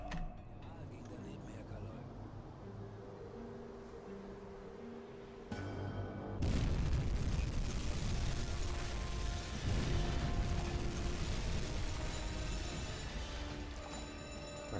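Torpedo hits on a ship in the submarine game UBOAT, heavy rumbling impacts swelling into loud sustained booming and clattering, following a quieter stretch of mechanical sounds.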